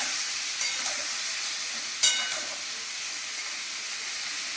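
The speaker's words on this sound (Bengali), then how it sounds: "আগে ডাঁটাটা আমি মশলার সাথে একটু ভেজে নেব।" Bottle gourd and drumstick stems fry with spices in a pan, giving a steady close sizzle and hiss with a single brief clatter of stirring partway through.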